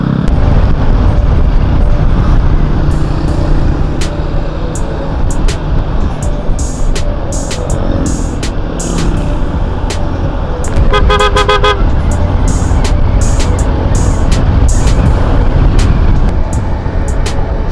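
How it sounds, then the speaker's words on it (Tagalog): Road traffic at a city intersection, a continuous loud roar of engines with repeated short horn toots scattered throughout and a brief burst of honking midway. "hindi masyadong matraffic dito sa intersection ngayon, pero mamayang konti niya sobrang traffic na dito"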